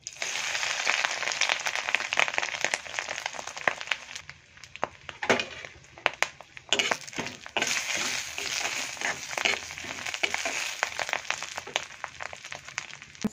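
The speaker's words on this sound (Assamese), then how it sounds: "মাছখিনি অলপ ভাজি লৈছোঁ মই।" Home-dried fish fry in a wok with a steady, dense crackle and sizzle, broken by sharper pops and scraping stirs. It sounds close and continuous, with no talking.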